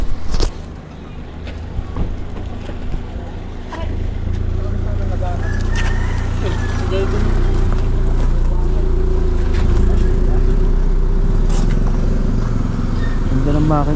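A boat engine drones steadily under voices talking, with some wind and water noise around it.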